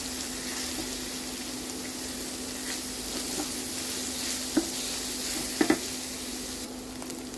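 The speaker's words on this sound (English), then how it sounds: "Fry for about 1 minute or until the green beans and the carrots become soft." Continuous sizzling of green beans and carrots frying in a pan, with a steady hum beneath and a few sharp clinks of a utensil stirring.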